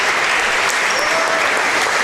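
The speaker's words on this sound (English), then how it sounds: "Comes out to a round of applause" Loud, sustained crowd applause fills a high school basketball gym as a senior player leaves the court, a dense continuous roar of clapping with cheering voices mixed in throughout.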